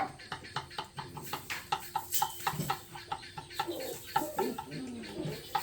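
Chickens clucking repeatedly in short, busy bursts, several birds close by, with a faint voice in the background.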